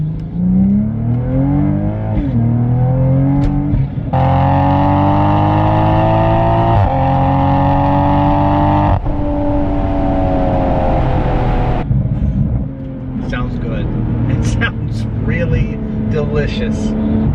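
A Toyota Supra with a dual cat-back exhaust revs hard several times, deep and boomy, rising and falling in pitch, with a rumbling idle between bursts and some voices near the end.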